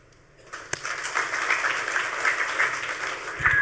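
An audience at a hacker conference talk claps in a broad wash of applause that swells quickly and holds steady, with scattered individual claps audible, heard at a moderate distance with no talk over it.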